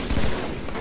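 Gunfire from a team shooter video game, a dense burst of overlapping shots packed into under a second, loud and continuous.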